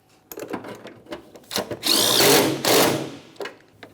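A power tool snugs a mounting nut on the coolant reservoir of a 1999-2006 Chevrolet Silverado 1500 with a 4.3L V6, with short whirring bursts and then a longer loud whine, close up.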